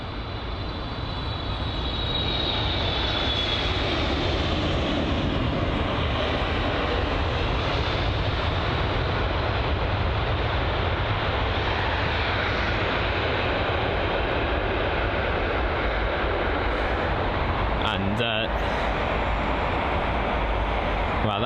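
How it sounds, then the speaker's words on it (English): An American Airlines Boeing 777 landing on runway 27R at London Heathrow, heard as a continuous loud roar of jet engines that stays steady throughout, with a brief rattle near the end. "Wow, that's a loud jet. I can still hear the engines even though it's on the end of the runway."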